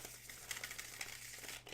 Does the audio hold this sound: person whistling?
no